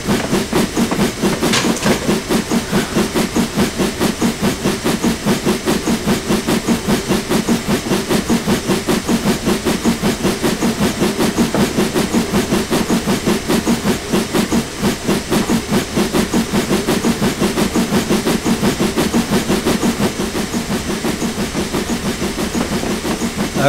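A GWR King steam locomotive in a train simulator game chuffs loudly and steadily, its rapid rhythmic exhaust beats and wheel clatter running on without a break, close by and without talk.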